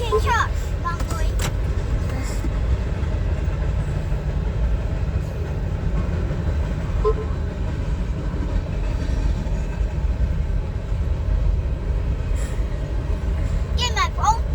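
A CSX freight train rolls past in a long continuous rumble with faint rhythmic clatter of wheels, fairly loud and steady throughout, while occasional brief voices sound nearby.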